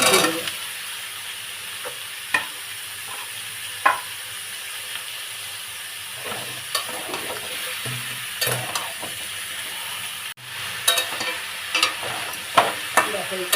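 Jackfruit seeds frying in a pan with fried spices, a continuous close sizzle with repeated scraping and clinking as the mix is stirred, no voices.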